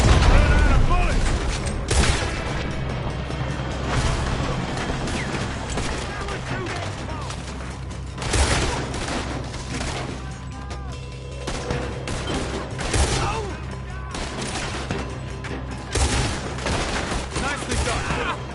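Repeated gunfire in the Western video game Red Dead Redemption 2, dense bursts of shots and booms firing through a loud, continuous shootout, with a voice talking over it at times.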